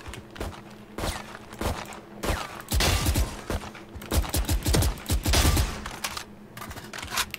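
Gunfire in the Valorant tactical shooter, bursts of rapid shots clustering in the middle and later part of the clip, fairly close and punchy, with footstep-like ticks in between and no talking.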